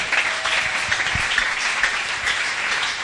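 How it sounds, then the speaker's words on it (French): An audience at a Bible seminar applauds loudly and continuously, dense clapping filling the whole short moment. "Acclamons très fort pour le Amen."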